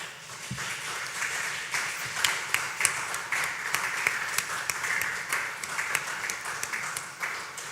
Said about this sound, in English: Ladies and gentlemen, please put your hands together for Seun Ojokedion.